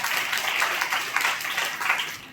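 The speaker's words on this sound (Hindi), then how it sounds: "ताली बजाकर परमेश्वर को महिमा करें।" A church congregation claps together in steady, dense applause that swells and fades slightly, loud and close, with no talk over it.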